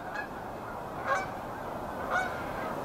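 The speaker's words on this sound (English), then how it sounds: "of geese upstream that have already flown off, because I'm looking at flights in the distance, flocks in the distance leaving right now" Geese in a flock honk in flight along a river in Lethbridge, two or three distinct calls spaced about a second apart, moderately distant over a steady outdoor hiss.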